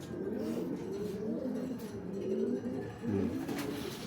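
Racing pigeons coo steadily at a loft after returning from the first lap of an FPR derby, a soft continuous murmuring chorus close by with no talk.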